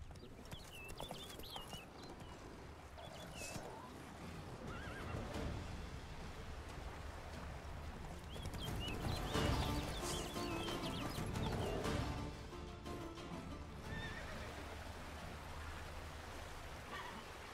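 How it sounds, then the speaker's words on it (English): A horse in The Witcher 3 video game trots with steady clip-clopping hooves close by, over a constant rain-like hiss, with a possible faint whinny. "Whoa there, Roach."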